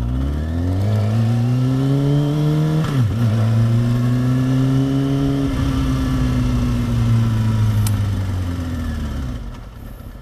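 Motorcycle engine after a first tune-up, steady close riding drone with a gear shift dip and pitch swells as it accelerates, fading slightly at the end, no talk.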